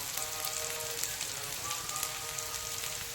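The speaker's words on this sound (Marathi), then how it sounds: "आता आपण त्या शेंगांना छान भाजून घेतलं आहे तेलामध्ये" Green bean pods sizzle steadily in hot oil in a pan, a continuous crackling fry with no voices over it.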